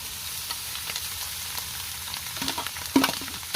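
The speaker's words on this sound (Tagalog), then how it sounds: "Nagisa lang po ako ng sibuyas at bawang." Onion and garlic sizzle loudly in a pan as chopped offal goes in to fry, a dense close hiss with stirring clatter and a sharper spike of spattering near the end.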